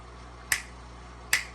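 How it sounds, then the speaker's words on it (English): Two sharp finger snaps, close and crisp, spaced under a second apart against quiet background. "snap my fingers, usually it'll work"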